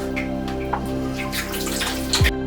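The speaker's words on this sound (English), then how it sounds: "Let me wash it off." Water splashing and running as acne product is rinsed off a face, a steady close wash with scattered drips and splashes and a louder splash near the end, no talking.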